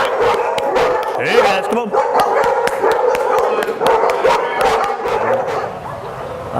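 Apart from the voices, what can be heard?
dogs barking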